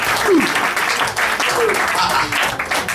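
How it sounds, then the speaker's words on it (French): Church congregation applauding at a bilingual French-English service, steady dense clapping throughout with a few voices calling out over it. "Give a hand to God. Alors, applaudissez pour"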